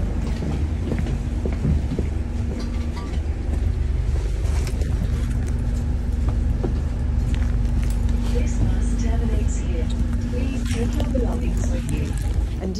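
From the front seat of a moving bus comes a constant loud engine drone and road rumble, with a steady hum and rattles over it. A person talks faintly underneath.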